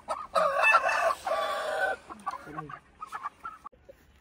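Desi and Sil hens cluck and squawk close by in a coop, a dense burst of overlapping calls at first, then scattered short clucks trailing off into quiet.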